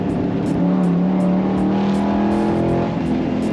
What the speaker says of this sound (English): And we're misfiring again.